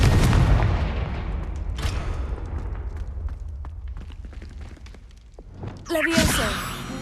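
Confringo fire spell cast in Hogwarts Legacy: a loud booming blast at the start that decays into a crackling, rumbling tail with scattered pops, followed by a sharp whooshing burst near the end.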